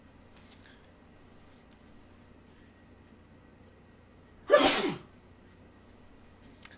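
A single sharp sneeze from someone, loud and close, bursting out of a quiet kitchen during Tom Yum Goong cooking, with only faint room noise before and after.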